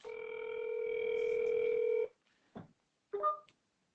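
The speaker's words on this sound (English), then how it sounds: "Let me try to call her on the phone." A telephone dial tone hums steadily for about two seconds while a call is placed, then cuts off. A couple of brief clicks and a short electronic blip follow in an otherwise quiet line.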